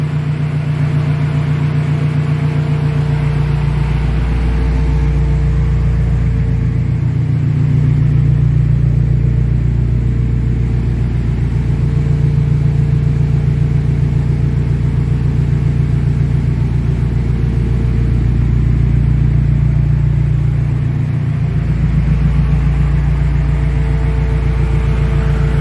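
A turbocharged Mazda Miata idles soon after a cold startup, its exhaust giving a loud, steady low rumble with slight periodic swells in level, heard alone with no talking.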